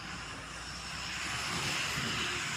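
Steady rushing engine noise from a vehicle passing along a rural road near Kinathukadavu and Pollachi, building gradually louder as it draws closer, with no voices.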